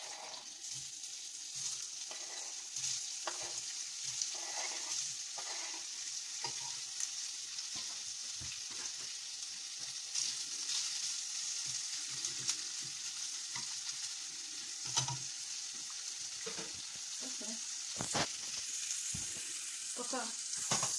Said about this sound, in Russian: Масло разогрелось, и будем обжаривать наши сосиски.